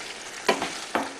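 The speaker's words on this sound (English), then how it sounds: "Give it a little bit of a stir." A spoon stirs a chicken and chorizo stew with stock in a pot, giving two or three short scraping swishes over a soft, steady sizzle, close and moderately loud, with no talking.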